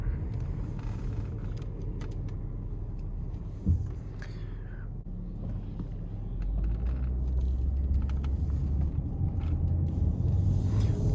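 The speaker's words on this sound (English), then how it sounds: "Put it into drive, hit the gas pedal," A BMW 523i E39 pulls away from a start, its engine rumble rising and growing louder partway through as it accelerates, heard from inside the car with steady road noise.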